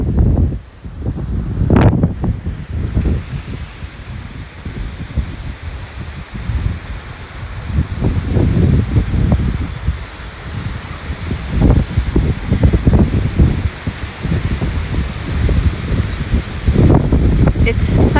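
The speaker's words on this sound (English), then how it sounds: "It's the worst wind." Very strong wind gusting at a sunny cottage with plants outside, a continuous loud roar buffeting the microphone and rustling foliage, with a voice talking over it at moments.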